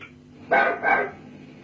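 A voice imitates a dog, giving two quick bark-like yelps in close succession against a quiet background.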